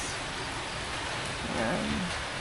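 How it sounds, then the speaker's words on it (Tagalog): Heavy, unbroken rain falling over Santa Cruz, Laguna during a fiesta morning, a dense steady hiss with no pauses, and a faint voice surfacing briefly near the end. "Pero talaga walang tigil yung ulan. Ang lakas."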